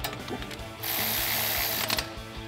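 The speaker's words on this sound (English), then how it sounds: "We'll switch to a 12mm socket for our brake line bracket bolt." A hand ratchet with a 12 mm socket tightens a brake line bracket bolt on a truck during a front leveling kit install. It makes a steady, close run of rapid clicking, louder in the middle, with no talk.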